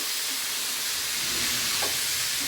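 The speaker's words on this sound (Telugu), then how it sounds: "ఇప్పుడు కడిగి పెట్టిన అటుకులను వేసేద్దాం కలిపి మూత పెట్టి" Washed flattened rice (poha) tipped into a hot pan of breakfast tempering and stirred through, giving a steady close hiss and sizzle that runs unbroken throughout.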